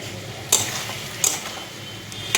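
Tomatoes and potatoes sizzle in a pan while a utensil stirs them, a steady frying hiss broken by three or four sharp metallic scrapes and clinks against the pan, close and fairly loud, with no talking.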